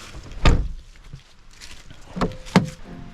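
The side door of a micro camper van with faulty central locking being opened, a handle click and thunk followed by a louder latch clack and a second knock, close and fairly clear.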